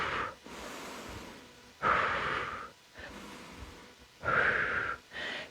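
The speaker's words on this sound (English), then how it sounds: "Inhale, exhale." Strong audible breaths during bodyweight squats in a lower-body conditioning workout, four or so long inhales and exhales in a steady rhythm, close and alone with no talking.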